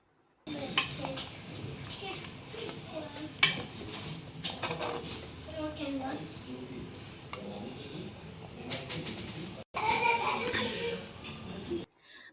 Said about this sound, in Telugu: ఒక స్పూన్ గరం మసాలా ఒక స్పూన్ ధనియాల పొడి వేసుకొని ముక్కలకు బాగా పట్టేలాగా కలుపుకోవాలి